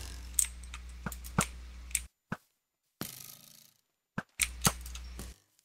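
Bows loose arrows at players in a Minecraft Ultra Hardcore match: sharp, dry snaps and clicks come in quick bursts, separated by short silent gaps.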